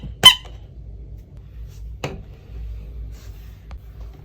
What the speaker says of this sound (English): You also can switch this part to make it sound squeaky.